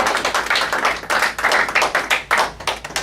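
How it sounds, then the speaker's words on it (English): Audience at a blogging business talk applauds a speaker, close, moderately loud clapping in uneven bursts with no talk over it. "Let's give him a round of applause"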